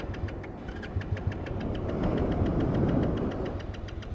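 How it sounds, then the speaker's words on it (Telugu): A motorbike near Kakinada beach cranks repeatedly without catching, a rapid, even train of mechanical pulses that swells slightly midway, with no voices. "బండికి ఏమైందో తెలియదు కానీ బండి స్టార్ట్ అవుతలే"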